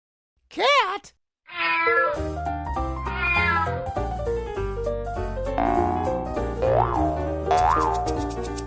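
A cartoon cat meows in a bright, repeated way over playful background music and bouncy effects in a children's sensory video, loud and close throughout.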